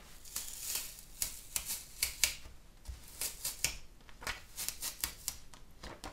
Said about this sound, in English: Okay, so this is completely cold now, so I can peel it away